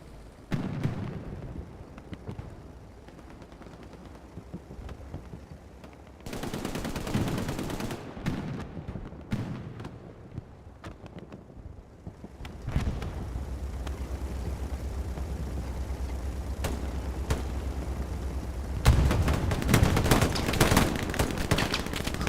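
Crossfire from infantry weapons in the World War II shooter Hell Let Loose, with scattered distant shots and short automatic bursts over low battlefield rumble, building to a louder, denser exchange of fire near the end.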